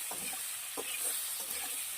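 Paneer frying in oil gives a quiet, steady sizzle, broken by three or four soft scraping stirs of a spatula in the pan, with no talking.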